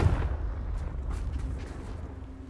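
A booming Confringo spell explosion in Hogwarts Legacy opens with a heavy low-end blast, then rolls into a rumbling, crackling decay that fades over a couple of seconds, with no voices.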